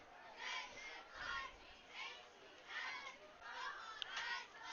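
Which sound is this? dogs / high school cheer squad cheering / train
high school cheer squad cheering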